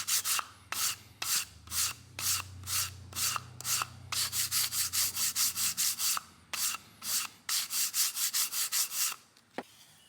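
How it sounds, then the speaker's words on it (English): Feather fletching clamped tightly on an arrow is ground down to even it, giving a long run of quick, rhythmic rasping strokes, close and steady, with a low motor hum beneath the first half. "Just do a little bit of grinding to get everything evened out."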